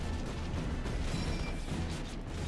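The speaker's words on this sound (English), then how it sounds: "Explosions." Dense rumbling explosions from a Minecraft World War 2 fort siege battle fill the short clip with a constant loud, crackling roar and no speech.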